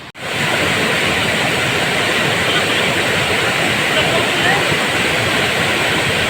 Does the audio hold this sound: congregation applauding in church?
no